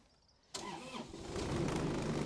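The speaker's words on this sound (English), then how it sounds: "I'll start the machine up." A compact tractor engine cranks briefly after a near-silent pause, catches and settles into a steady idle close by.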